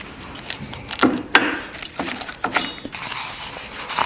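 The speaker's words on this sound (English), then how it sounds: "this is the spanner wrench. You hook into the shock like that" A metal spanner wrench hooked into the shock of a Polaris 400cc 2-stroke ATV, producing a few close metallic clicks, creaks and scrapes at irregular intervals against a quiet background.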